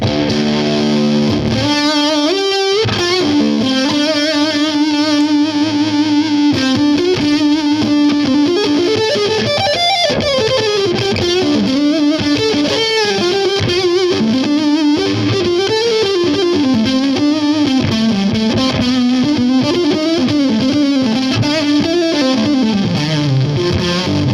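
An electric guitar through a Bigfoot Engineering King Fuzz pedal, heavily distorted and saturated, plays a sustained lead line with bends and vibrato, loud and up front, no voices.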